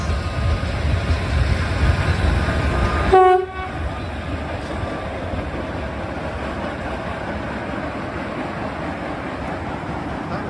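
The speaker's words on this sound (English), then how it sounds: "Now this train was passing" A train horn blasts once, close and loud, then the steady rumble and clatter of a passing train continues.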